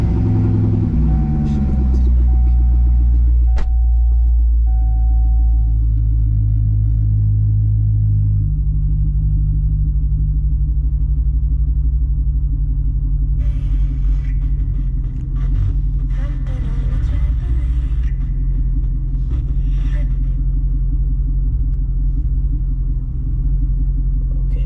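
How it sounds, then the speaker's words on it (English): A C6 Corvette's engine turns over and settles into a steady, deep idle rumble that runs close and continuous throughout. "So let me start the car."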